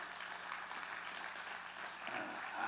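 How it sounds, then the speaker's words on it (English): Congregation clapping in praise during a church service, a steady, moderately loud wash of applause throughout with no talking. "Let's give the Lord one more praise clap."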